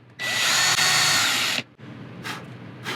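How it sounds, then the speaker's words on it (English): A power drill bores into hardened, dried epoxy in one loud, steady whine of about one and a half seconds, followed by two short, quieter bursts of the drill. "Epoxy's dried. I'm gonna drill into this."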